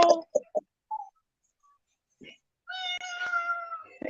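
A house cat meows a few short times, then one longer, clear drawn-out meow up close, with people talking and imitating meows around it.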